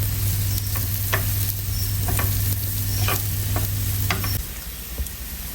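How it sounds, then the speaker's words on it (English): Mushrooms frying in a pan, stirred in a steady rhythm of close scrapes and clicks over a continuous sizzle that drops slightly near the end. "So I'm just gonna keep stirring for about 3 minutes or so"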